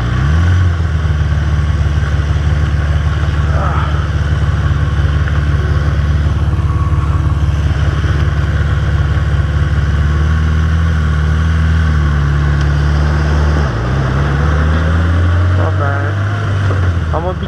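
A 1992 Yamaha XJ600 motorcycle engine drones loudly and steadily while riding, with a small pitch change partway through and wind noise mixed in.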